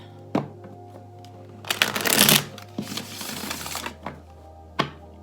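Tarot cards riffle-shuffled up close in several bursts, one long flurry in the middle between sharper snaps, with a low steady hum underneath.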